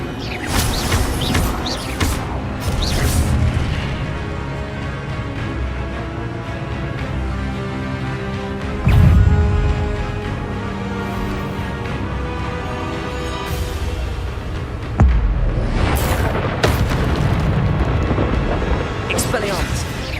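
Levioso spell effects in Hogwarts Legacy with a sharp magical burst near the middle and another later, over a dense, continuous wash of game sound and music.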